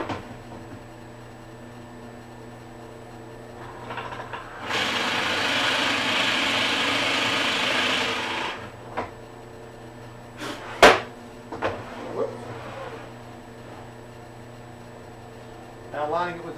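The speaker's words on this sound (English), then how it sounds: "So I'm going to drill out this side" A power drill whirs steadily for a few seconds over a low background hum, drilling hidden-hinge holes in a cabinet door, then stops, followed by a few sharp knocks and clicks.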